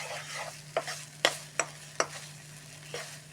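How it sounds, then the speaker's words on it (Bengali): Powdered milk is stirred a little at a time into a pumpkin laddu mixture in a pan, producing a handful of sharp scraping strokes at irregular intervals over a faint steady hum, close and fairly quiet. "একটু একটু করে আমি নাড়াচাড়া করছি"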